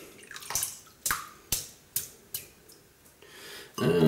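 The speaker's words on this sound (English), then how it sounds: "wet the brush" A shaving brush being wetted with water, giving a series of sharp, close splashes and taps spaced about half a second apart, then a brief burst of running water at the end.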